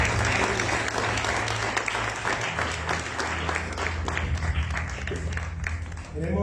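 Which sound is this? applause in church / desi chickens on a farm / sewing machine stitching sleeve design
applause in church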